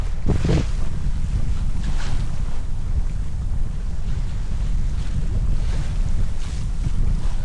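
A sailboat sails hard in a strong wind of about 18 knots, making 6.4 knots near Scotland's Summer Isles. Rushing wind and water noise roar steadily and loudly throughout, with no voices.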